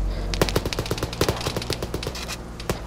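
Rapid bursts of machine gun fire from a video game rattle out in quick, uneven volleys, loud and close, with no speech over them.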